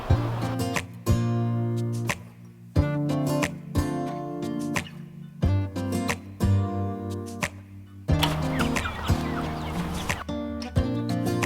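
Chickens cluck repeatedly up close in uneven bursts, with short pauses between each run of squawky calls.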